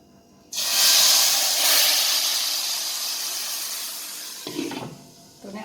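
Fried spices poured into a pot of beef nihari hit with a loud, sudden sizzle that hisses steadily and slowly fades over several seconds, ending with a faint clink of the pan.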